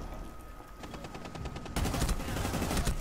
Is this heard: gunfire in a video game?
yes